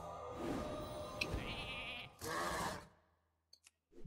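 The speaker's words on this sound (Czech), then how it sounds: "Udělám ovci." Sheep bleating in the card game Hearthstone, two clear wavering bleats one after the other, followed by short soft clicks as the sound fades to near silence.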